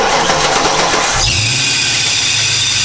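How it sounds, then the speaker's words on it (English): The V8 engine of an abandoned Mustang GT rebuilt as a NASCAR-style car cranks over briefly and then fires, settling into a loud, close, rumbling idle right after the start. "Noah, fire it up."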